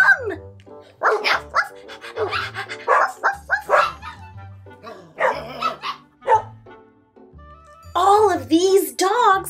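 Several scruffy long-haired dogs bark close by in irregular bursts of yips and woofs, with whimpering, and a voice speaks between them.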